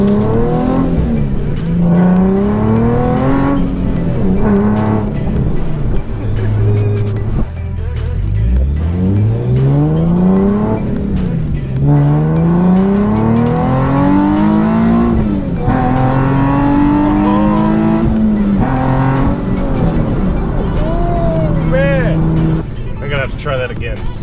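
A supercharged car drives and accelerates hard, repeated rising engine sweeps climbing and dropping through gear changes, loud and close throughout, with a voice talking over parts of it.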